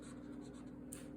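Felt-tip marker strokes scratching across paper in a quiet room, a soft, steady drawing scrape with short repeated strokes, close up and alone, ending in a brief brighter swipe.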